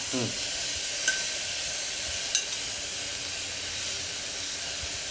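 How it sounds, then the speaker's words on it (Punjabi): A steady, loud hiss of oil sizzling in a hot pan as a tadka tempering cooks on a low flame, with a couple of faint metallic clinks along the way. "ਪੂਰਾ ਤੜਕਾ ਲੱਗ ਰਿਹਾ ਹੈ ਜੀ"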